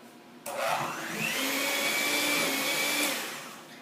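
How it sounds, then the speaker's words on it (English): An electric mixer creams softened unsalted butter for a lemongrass raspberry cake, starting abruptly and whirring loudly and steadily with a rising pitch, then easing off slightly. "So now I added my butter, and I'm going to cream these together."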